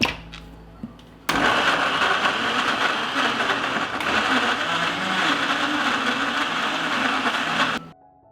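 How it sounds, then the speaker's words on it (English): A blender grinding peaches, a loud steady whirring roar running for about six and a half seconds after a brief quieter start, then cutting off. "Grind the peaches in the blender."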